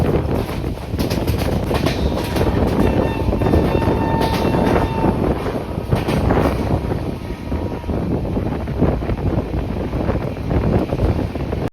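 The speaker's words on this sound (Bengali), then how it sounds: "দুরন্ত এক্সপ্রেস তার দুরন্ত গতিতে পার করল দক্ষিণেশ্বর স্টেশন।" The Duronto Express thunders through Dakshineswar station at full speed, close and loud. Its continuous rumble and clatter mix with a heavy rush of wind.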